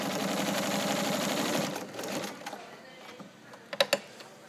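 Vintage Kenmore 158.1750 sewing machine with a 1 1/4 amp motor, stitching straight through layers of fabric: a fast, steady mechanical whir for about two seconds, then slowing with a few separate clicks and knocks of the mechanism near the end.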